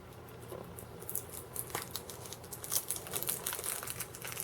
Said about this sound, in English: Let's open this tape up.